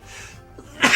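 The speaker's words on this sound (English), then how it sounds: "Sneeze at the absolute worst time." A single sharp human sneeze bursts out at the very end, loud and close, after a quiet stretch with faint background noise.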